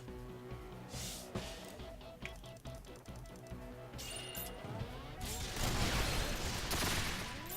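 Rapid bursts of gunfire aimed at a gangster in the Resonance of Fate video game, with sharp crashing impacts and dense clattering shots that build into a loud, sustained barrage near the end.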